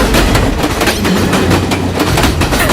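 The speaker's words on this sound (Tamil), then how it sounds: "ட்ரெயின் வருது" A train rolling past at close range, loud rumbling with rhythmic clickety-clack of wheels over rail joints, building and sustained throughout without any voices.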